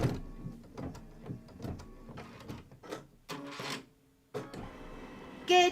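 A sewing machine stitches a dense, heavy satin stitch on an appliqué block, sending out bursts of rapid mechanical whirring and chattering that start and stop, fairly close, with brief pauses and a whine near the end.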